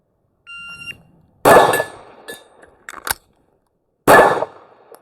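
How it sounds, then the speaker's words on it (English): A Steyr L9-A2 MF pistol fires two loud, close shots a few seconds apart, each with a short ringing decay. Between them come the metallic clicks and clatter of a magazine change, and a brief electronic shot timer beep is heard at the start. "I shoot one shot, hopefully a hit, change the mag, another shot"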